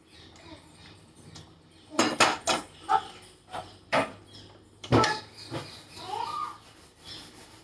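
Peas tipped into a gravy simmering in a cooking pan, a cluster of close metallic clatters and scrapes of a spoon against the pan, then a quieter bubbling sizzle between the knocks.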